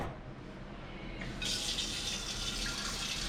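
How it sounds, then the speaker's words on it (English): Tap water runs into a vessel in a home kitchen while making idli, a soft low flow that jumps to a louder, brighter gushing stream partway through and continues steadily, with no talk. "first steps is filling water"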